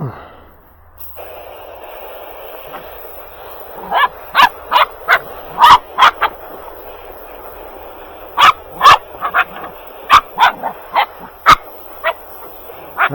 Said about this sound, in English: Get a video of dog barking.